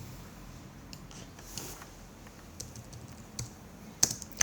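Someone types a name on a Mac keyboard, producing light, irregular key clicks close by, a little louder toward the end.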